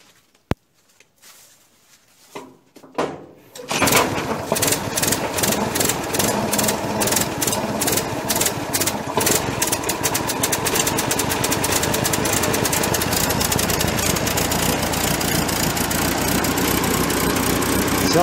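A Lister D stationary engine or a Farmall Super A tractor engine fires on a cold start after a few quiet knocks, then settles into a loud, steady, rapid chugging idle with its exhaust swapped.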